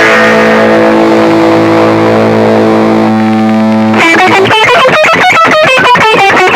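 Loud distorted electric guitar, a Dean C350F: sustained fuzzy chords ring out, then a burst of quick, choppy picked notes.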